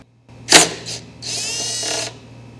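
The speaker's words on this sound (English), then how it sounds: "with that socket on an impact driver, I can work that nut off" An impact driver with a socket works a pulley nut loose on a DeWalt DW735 planer. A sharp burst and a brief second burst are followed by a steady, close mechanical whirr lasting under a second.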